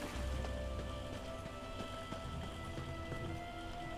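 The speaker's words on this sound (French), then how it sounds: "Il y a une averse qui arrive." Steady rainfall in the video game The Elder Scrolls Online hisses over a low rumble, with occasional drips and soft thuds, continuous and fairly quiet.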